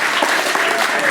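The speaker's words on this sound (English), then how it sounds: "So big round of applause for Mr. Benjamin Sayers" Steady applause from wedding guests for the best man at a wedding reception, a dense even wash of clapping filling the whole moment without a break.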